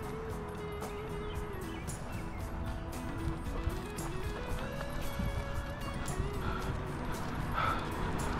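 An excited dog yips and whimpers, eager to run after seeing another dog running, with a steady outdoor rumble and a faint, steady tone underneath throughout.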